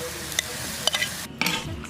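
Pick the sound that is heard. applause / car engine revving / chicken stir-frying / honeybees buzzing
chicken stir-frying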